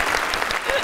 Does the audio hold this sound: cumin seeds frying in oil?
no